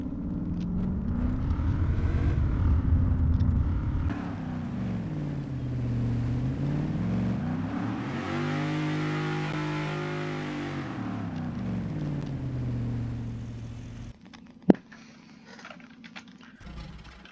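A police mod car engine in the Arma 3 video game revs up and settles in a sound test, the tone climbing and falling smoothly before cutting out, followed by a sharp click and brief faint noise.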